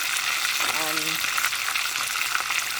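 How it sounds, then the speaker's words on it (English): Red snapper frying in hot oil, a dense, steady close sizzle throughout, with a brief voice-like tone rising over it early on. "So I'm just gonna let these fry."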